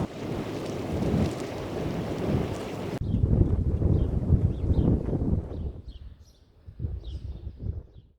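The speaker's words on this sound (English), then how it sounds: "It's quite a cold wind blowing here on the 26th of May at Milton Lock." Cold wind blowing outdoors at Milton Lock on a May morning, heavy buffeting rumble across the microphone, strong and close, easing slightly and gusting unevenly toward the end.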